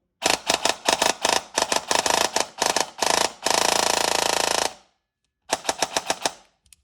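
Upgraded KWA Ronin airsoft gun on an 11.1 V LiPo firing full auto: close, loud bursts of rapid mechanical clatter, one long sustained string, a pause of silence, then a final short burst.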